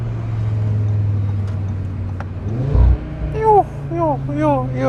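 Audi RS3 fitted with a custom downpipe, a steady low engine drone that swells into a short loud burst and a couple of pops, with rising revs and a voice talking over it.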